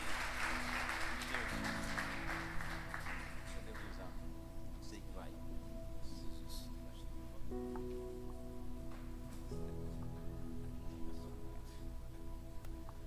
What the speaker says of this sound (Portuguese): Aplauda o Senhor nesse lugar, amém.